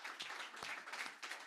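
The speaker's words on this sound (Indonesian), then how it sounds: "Coba berikan tepuk tangan yang terbaik bagi Tuhan." A church congregation applauds during an Indonesian worship service, a dense, steady wash of clapping with a few sharper claps standing out, heard alone.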